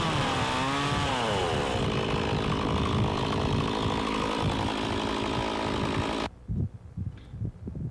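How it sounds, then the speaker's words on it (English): A chainsaw revs loud and continuously while cutting off the end of a log for a log cabin dovetail, and its pitch shifts as the chain bites. The saw drops off near the end and leaves some bumps and knocks. "Cut off the end of the log to this line and allow the saw to score into the log"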